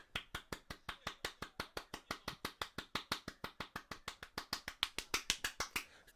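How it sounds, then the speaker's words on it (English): Hands clap in a fast, steady rhythm close to the microphone during a Brighton versus Manchester United watch-along. The sharp, loud claps come about six per second with no talk. "I just realised I was clapping right in the microphone there"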